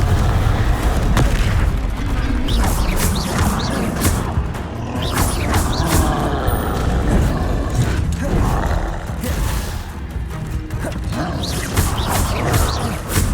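Confringo blasts in Hogwarts Legacy combat, repeated booming spell explosions layered with other spell effects and rumbling, dense and loud throughout, with no pauses.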